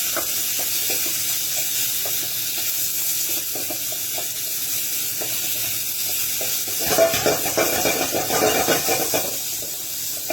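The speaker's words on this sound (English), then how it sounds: "You can see that's frying away there." A steady, crackling sizzle of chicken for enchiladas frying in a pan, continuous throughout, growing a bit louder and busier near the end.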